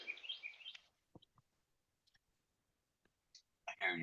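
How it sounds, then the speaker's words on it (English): Birds chirp in a quick repeated run at the start, heard outdoors at a fair distance, followed by scattered faint clicks and brief chirps across a mostly quiet stretch, with a louder burst near the end. "I hear your birds in the background."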